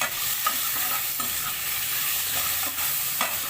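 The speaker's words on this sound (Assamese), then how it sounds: "এতিয়া লাৰি দিম ধুনীয়াকৈ" Stirring fish curry in a frying wok with tomatoes, ginger, garlic and onion, a steady close scraping and stirring over a continuous hiss of sizzling, with a few sharper scrapes of the spoon.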